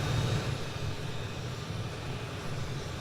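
Steady low jet-engine roar from a MiG-15 fighter in War Thunder aerial combat, a continuous droning rumble holding at even loudness throughout with no voices.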